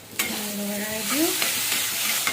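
Cumin and coriander powder being stirred into hot oil in a pan, a steady close sizzle broken by a few sharp scrapes of the spoon, with a faint tonal hum in the background.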